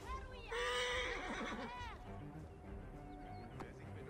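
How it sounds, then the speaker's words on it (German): A horse neighs loudly in the Assassin's Creed Origins video game, a long wavering whinny lasting about a second and a half, followed by quieter background game sounds. "Pferd, was machst du da?"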